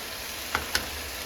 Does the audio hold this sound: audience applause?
no